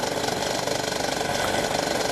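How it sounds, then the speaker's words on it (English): A model airplane's small engine, on a Bloop1 Motorfloater, runs steadily at low power to warm up, a close, continuous buzzing drone with a slight rhythmic pulse and no talk. "The engine should be allowed to warm up at low power settings for 3 minutes."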